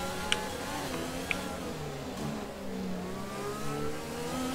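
A McLaren Formula 1 car in the F1 2020 racing game howls steadily at high revs, its engine pitch rising and falling through gear changes as other cars whine around it, loud and continuous.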